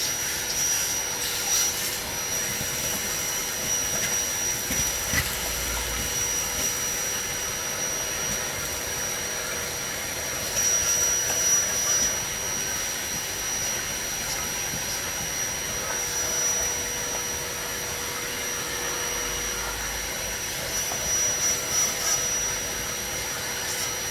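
A shop vacuum sucks debris out of a hole in a 1975 Super Beetle, making a steady, loud, whining roar that continues throughout, with brief surges and rattles as material is pulled in.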